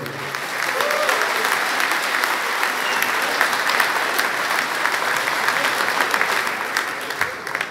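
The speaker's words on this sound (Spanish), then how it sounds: "Le brindamos un fuerte aplauso." An audience at a union assembly gives strong, sustained applause, dense clapping filling the room and continuing steadily for several seconds without speech.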